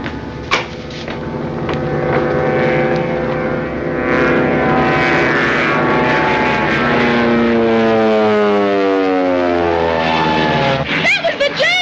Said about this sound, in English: That's your plane, Griffith.